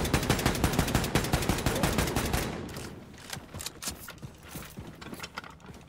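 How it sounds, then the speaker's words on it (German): An elevator mechanism in Wolfenstein 2, a rapid mechanical clattering of even regular ticks that is loud for over two seconds, then breaks into scattered knocks and rattles that fade toward the end. "Ah ja, ein Aufzug."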